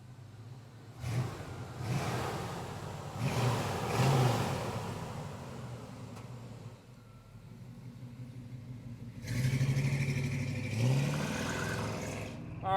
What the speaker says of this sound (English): We're taking out this classic 1987 C10